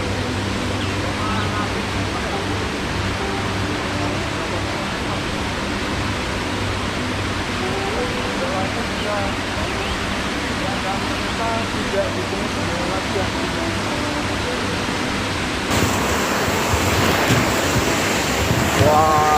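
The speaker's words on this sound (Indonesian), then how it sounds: "Sangat deras airnya." A forest waterfall pours as a dense, steady roar of rushing water that fills the whole stretch and grows a bit louder near the end.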